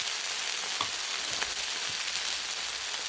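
Frozen chicken tenders fry on a flat griddle over medium-low heat, giving a steady close-up sizzle with faint crackles and pops throughout, with no talking.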